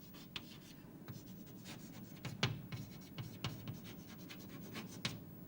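Chalk or marker writing on a board during a lecture, heard as scattered scratchy strokes and taps at a steady close level, with no talking.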